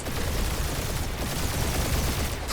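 Rapid gunfire in the video game Marvel's Guardians of the Galaxy, a dense, continuous barrage of shots filling the whole stretch at steady, loud intensity with no pauses.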